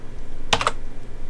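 A short burst of three or four quick computer keyboard key presses, a control-and-number key combination struck close by in a quiet room, with no talking.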